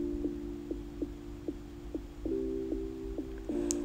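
A sewing machine top stitches a seam on a mermaid dress with net and fabric, a soft humming motor with evenly spaced mechanical thumps about twice a second, quiet and alone.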